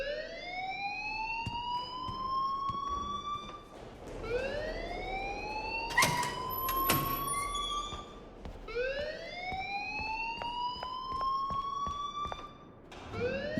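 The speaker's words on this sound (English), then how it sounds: "please turn off that alarm since that's your job" Electronic alarm wailing inside the video game Life is Strange, rising siren-like sweeps that repeat in cycles, loud and continuous, with a brief burst of clatter partway through.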